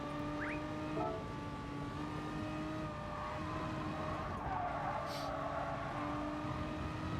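Renault Megane race car in Gran Turismo Sport: a steady engine drone with shifting tonal whine as the car is driven, faint and continuous, with a brief tyre squeal early on and no talking.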